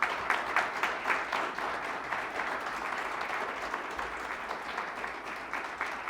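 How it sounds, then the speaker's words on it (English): Steady applause from an audience at a charity grant announcement for children's health programs, a continuous wash of clapping at moderate, even loudness, heard somewhat distantly throughout. "please, a round of applause for that"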